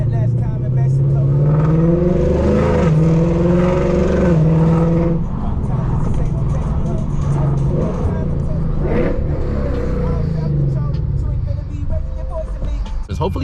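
A FBO Lexus RC F engine revving with rising and falling tones as it downshifts in traffic, loud and close throughout while someone talks over it.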